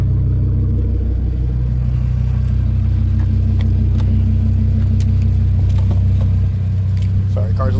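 A modified AWE Track exhaust on an Audi RS3 idles with a steady, loud low rumble throughout, a person briefly talking over the engine.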